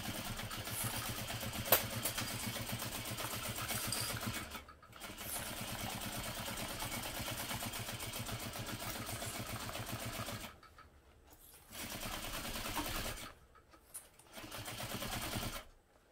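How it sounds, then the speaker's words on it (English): A sewing machine bastes a seam with a 1/4 inch seam allowance, running in long steady stretches broken by several short pauses, close and moderately loud. "now I'm just basting this on using a 1/4 inch seam allowance"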